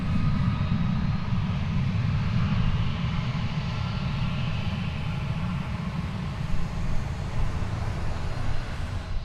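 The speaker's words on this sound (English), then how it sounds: "Let's check out the aviation stylings of American Flight 1955 coming in from San Francisco, no, San Diego." An American Airlines flight from San Diego arrives at Dallas Fort Worth airport, a loud steady roar of aircraft engines with heavy low rumble holding through the whole stretch, no voices over it.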